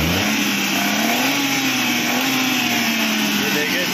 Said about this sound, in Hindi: ये देखिए गाड़ी स्टार्ट है, इसके आरपीएम हमने सेट कर दिया है,